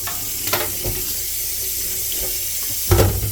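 Tap water runs into a container being rinsed, a steady hiss with small clinks and splashes, ending in a louder gush of water near the end.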